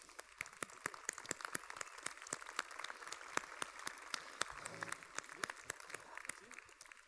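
A graduation ceremony audience claps for the band, a moderately distant, sustained patter of many hands with scattered louder individual claps over several seconds.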